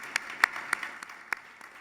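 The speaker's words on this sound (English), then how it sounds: "You guys need to give yourself a round of applause" A conference audience at a closing keynote gives a short, sparse round of applause, a handful of scattered claps heard at moderate distance that thin out quickly.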